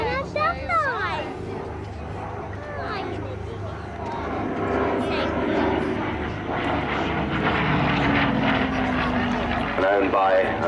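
A Spitfire Mark 12 with a Canadian Rolls-Royce Merlin 25 engine of about 1,300 horsepower drones loudly overhead at an airshow, its pitch sweeping as it passes, with voices in the background.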